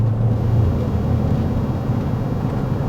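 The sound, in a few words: Chevy Silverado with FlowMaster 40 Series exhaust, heard in cab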